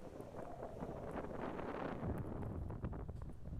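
Wind gusts roar steadily across a stormy Atlantic beach at low tide after days of storms, a broad rushing buffeting on the microphone that surges louder partway through, with no voices.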